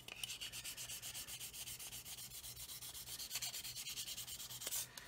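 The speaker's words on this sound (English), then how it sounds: "So I do need to actually sand them out." Sanding stick worked lightly back and forth over a seam on a Roden C-141B Starlifter plastic model kit, giving a steady run of close, raspy rubbing strokes in an even rhythm with no talking.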